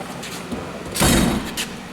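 A Snap-on tool cart drawer slides shut with a short rolling scrape and a soft thud, preceded by faint rustling and followed by a light knock.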